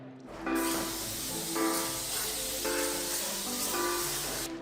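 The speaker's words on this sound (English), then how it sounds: "We spray oil on it" A steady hissing spray of oil onto an iron cone for donut making runs continuously for several seconds, close and fairly loud, with faint background noise and no talking.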